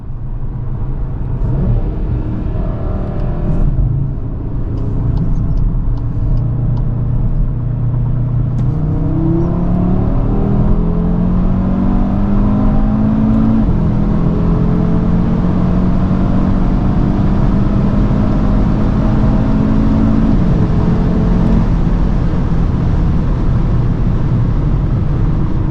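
A 450 hp VZ5 BAT Edition car accelerates hard with manual gear changes, its engine roaring and climbing in pitch through several upshifts, loud and close from start to finish.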